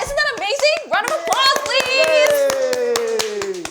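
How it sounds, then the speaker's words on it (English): Rhythmic clapping from an audience at a children's illustrators draw-along show, steady sharp claps running under loud, excited voices cheering and talking throughout. "Round of applause, please!"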